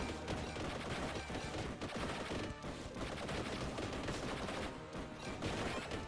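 Laser guns fired by troopers in a Warhammer 40K game, a dense continuous barrage of shots blended with heavy battle noise, loud and unbroken throughout.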